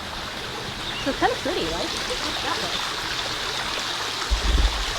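A small creek flows beside a campground near Lake Winnipesaukee, giving a steady, soft broadband rush of running water throughout, with a person talking briefly over it.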